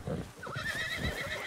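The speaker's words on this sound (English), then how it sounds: "Oh, fucking stupid horse." A horse in the video game Red Dead Online lets out a clear, wavering whinny that rises and falls for over a second, fairly close, over faint game background noise.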